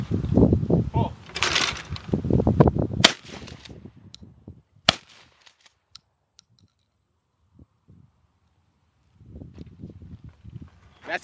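A shotgun fires at clay targets outdoors, with a few sharp reports and clicks scattered through the clip. Loud talk dominates the first few seconds, then fades to quiet, and a voice returns near the end.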